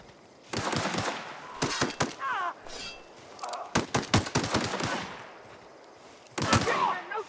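Rapid bursts of automatic gunfire ring out in a sci-fi shooter, several loud, close volleys separated by short pauses, with brief gaps of quieter ambience between them.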